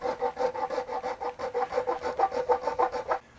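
A small rasp and files shape the wooden body of a scratch-built figure-8 electric guitar, giving steady rhythmic rasping strokes, close and loud, with no talk.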